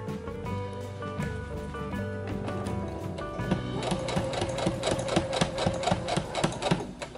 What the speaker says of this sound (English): So we're gonna jump over to the machine, sew that up.